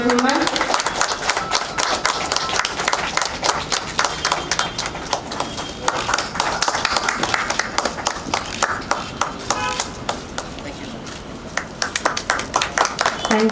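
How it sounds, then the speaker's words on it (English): An audience applauds at an office building inauguration with a minister present, steady, sharp clapping from many hands lasting several seconds, with a few voices mixed in. "A loud round of applause, ladies and gentlemen."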